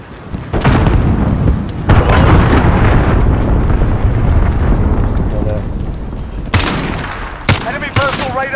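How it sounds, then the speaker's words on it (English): Cruise missile strike in Call of Duty: Modern Warfare, a loud, sustained rumbling barrage of blasts and gunfire-like crackle that rolls on for several seconds, with sharper bursts near the end and game voice chatter mixed in. "Enemy cruise missile incoming!"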